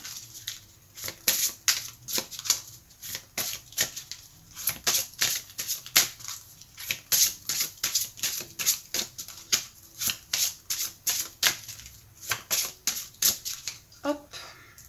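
A deck of oracle cards being shuffled and cut by hand, producing a long run of quick riffling bursts in a steady rhythm, close and crisp, with a voice speaking in places.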